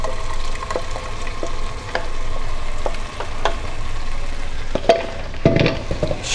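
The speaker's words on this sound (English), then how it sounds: "Stir it up nice, turn your heat down." Homemade tomato sauce with tomato paste is stirred in a pot on the stove, giving a steady, close sizzle with soft scraping and occasional clicks of the spoon against the pot, with no talking.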